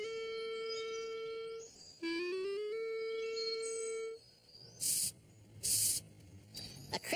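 Air blown through the holes of a clarinet imitates a hissing cockroach: a few sustained clarinet notes give way to short, breathy bursts of hiss, close and fairly quiet.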